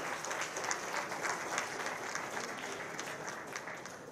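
An audience at a government ceremony for signing maritime board MOUs breaks into sustained applause, a dense, even wash of clapping from a large indoor crowd, with no voices.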